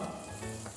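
Vegetables sizzle steadily in hot oil in a pan for vegetable biryani, with beans added alongside carrot and capsicum; a continuous, fairly quiet frying hiss with no talking.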